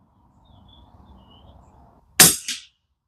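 A single sharp gunshot cracks out at an outdoor target range after a quiet stretch of faint background, with a short second burst following as the round strikes the target.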